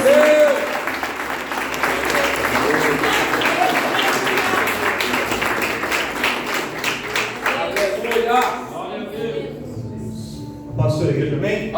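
A church congregation claps during an evening worship service. Distinct rhythmic hand claps and voices over them build and then thin out, leaving scattered claps toward the end.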